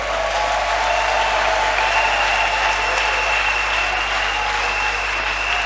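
A church congregation applauds in acclamation to Jesus Christ, a steady, dense wash of clapping that runs unbroken over a low electrical hum.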